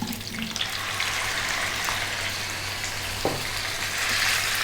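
Beef added to a pan with fresh curry leaves and cloves for a masala curry on medium heat, giving a steady, fairly quiet frying sizzle with a few soft clinks and no talk.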